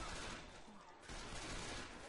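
Sustained gunfire against zombies in Left 4 Dead 2, a continuous rattling fusillade with a brief lull partway through before the shooting resumes at steady volume.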